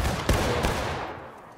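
Outdoor battle reenactment gunfire at the Pry House: a couple of sharp, loud musket-style shots crack over a lingering rumble and fade, with no talking.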